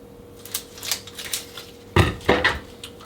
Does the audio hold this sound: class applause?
no